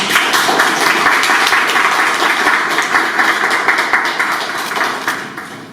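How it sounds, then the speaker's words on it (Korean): A lecture audience applauds to welcome the chair of a Korean peninsula peace economy conference, a dense, steady ovation of many hands that holds for several seconds and slowly thins toward the end. "큰 박수로 맞이해 주시기 바랍니다"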